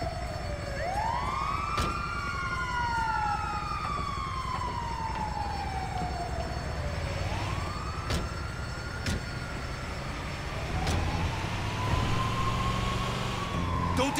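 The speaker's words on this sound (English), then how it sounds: "It's the ambulance!" Wailing ambulance siren in a GTA V mission, its rising and falling sweeps repeating over steady traffic-like rumble for the whole stretch, fairly loud and continuous.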